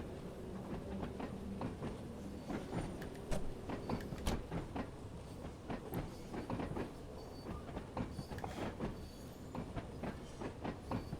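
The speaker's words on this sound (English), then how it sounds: "it was just where the train noise was quite loud" A Class 31 diesel train runs on the rails with a loud, continuous rumble and dense, rhythmic clickety-clack from the wheels, heard from close by with no talking.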